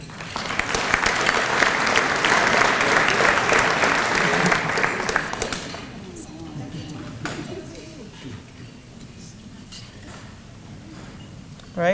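An audience at a regional chamber of commerce luncheon claps loudly for about five seconds, then the applause fades into a room of clinking dishes and cutlery with scattered murmuring.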